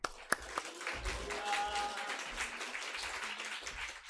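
A church congregation applauds to welcome the preacher at a Sunday morning service: a few sharp claps at first, then soft, fairly distant scattered clapping that carries on for several seconds, with some voices underneath.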